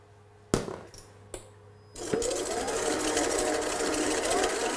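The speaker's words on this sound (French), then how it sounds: "dans le bol du batteur, on va mettre les blancs en neige avec la moitié du sucre en poudre" An electric stand mixer whips egg whites with caster sugar into meringue, starting after a couple of sharp knocks and then running loud and steady with a constant whir.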